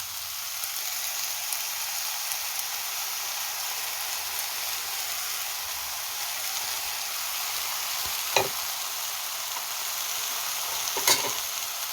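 Eggplant stir-fried with chilies and sauce crackles in a steady, close sizzle throughout, with a couple of sharp utensil clanks against the pan near the end.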